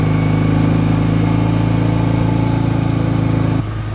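A 1967 BSA Spitfire Mk III twin-cylinder motorcycle engine runs at a steady, loud, throbbing idle close by, then the note suddenly drops away near the end.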